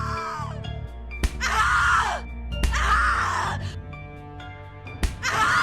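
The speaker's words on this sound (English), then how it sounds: "Scream louder, little bitch! Scream your lungs out!" Loud, drawn-out human screams from The Cat Lady horror video game, several anguished cries broken by sharp smacks and groans, set over low droning music.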